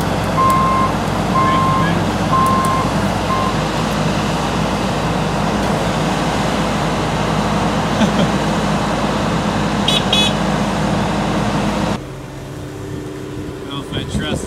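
A dump truck backs up with a string of evenly spaced reverse beeps over a steady diesel rumble, the beeping stopping after a few seconds while the engine drone carries on, then drops off abruptly near the end.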